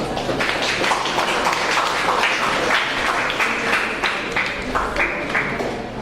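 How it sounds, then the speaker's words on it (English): A debate audience applauds after a speech, steady clapping and tapping held at an even level throughout without pause. "please give a round of applause"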